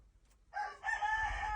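Rooster crowing in a coop alongside chickens, one loud close cock-a-doodle-doo that starts after a brief quiet moment and holds steady to the end.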